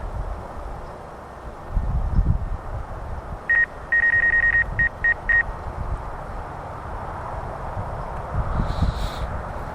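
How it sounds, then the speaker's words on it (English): A series of short, high electronic beeps in quick clusters from a DJI Mavic Air 2 drone's obstacle avoidance rings out over steady wind noise and a low motor hum, followed by a brief high chirp. "the obstacle avoidance is, it beeps and it scares you."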